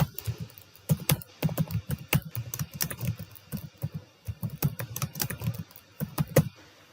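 Rapid, irregular clacking of computer keyboard keys as a short note is typed, close and clear, with bursts of keystrokes and brief pauses over about seven seconds and no talking.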